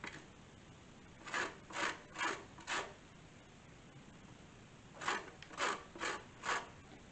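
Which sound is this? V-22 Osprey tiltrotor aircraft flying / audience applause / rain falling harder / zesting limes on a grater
zesting limes on a grater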